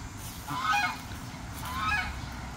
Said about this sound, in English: that's a guard goose